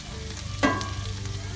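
Green beans charring in a hot pan, a steady close sizzle and frying hiss with a brief louder scrape or toss as they are flipped partway through.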